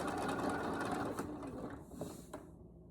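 A sewing machine chain piecing nine patch quilt squares runs in a steady close whir that fades slightly near the end, with no voices.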